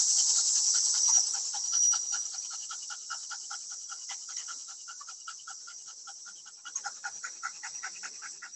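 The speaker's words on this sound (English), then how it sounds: "especially when the dog is panting" A dog pants rapidly and steadily, close and fairly quiet, the quick airy breaths continuing without pause for several seconds.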